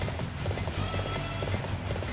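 A horse galloping in Dynasty Warriors 6, with rapid rhythmic hoofbeats pounding steadily throughout under a dense background of game sound.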